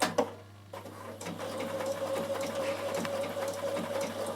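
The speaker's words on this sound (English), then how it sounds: "So if I want to make a feature on my jeans, I can now use my triple zigzag." A Bernina sewing machine runs a triple zigzag stitch on denim jeans, a steady close mechanical whir with rapid needle clatter, starting after a brief pause and continuing evenly to the end, no talking.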